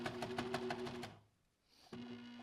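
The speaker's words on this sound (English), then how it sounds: "I'm just going to stitch right next to the edge because my serger does not like to use the knife and go through all of these layers" A serger stitches along the edge of several layers of knit fabric for a cardigan, its knife disengaged, running in a loud rapid mechanical hum, pausing briefly, then starting up again.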